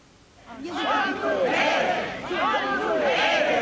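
A dense crowd of supporters gathered outside the Kachanivska penal colony shouts and chants in loud, overlapping voices that swell and continue without a break.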